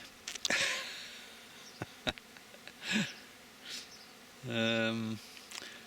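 Honey bees buzzing around their hives after a swarm, individual insects flying close past with rising and falling drones, one loud, steady buzz near the end.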